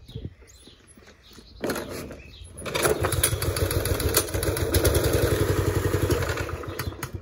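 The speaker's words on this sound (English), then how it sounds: "manly task number four, starting a mower" A lawn mower engine is pull-started: a quiet stretch with light clatter, then a sudden burst as it catches around two seconds in, settling into a loud, steady, throbbing idle close by.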